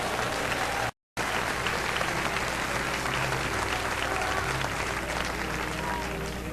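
A church congregation applauds at a sermon, dense steady clapping filling the space with a brief dropout near the start, then continuing evenly.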